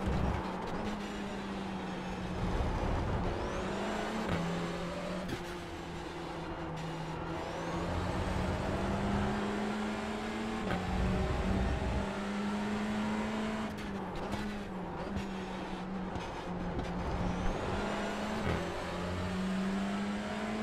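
Touring car engine in iRacing at the Interlagos Grand Prix circuit, a steady droning whine that rises and drops with gear shifts and revs, joined by other cars close by.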